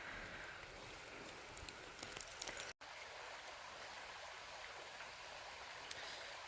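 A river stream runs steadily, a soft, continuous wash of water with faint splashes and no voices. The sound holds a low, even level throughout apart from one brief dropout.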